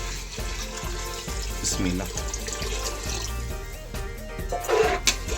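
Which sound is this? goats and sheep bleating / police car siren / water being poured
water being poured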